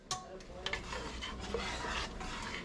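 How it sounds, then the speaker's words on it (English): A utensil scrapes and clinks around inside a pot as the contents are stirred, then the pot is covered. The sounds come as a few distinct taps over a low rubbing. "We'll stir it and cover it."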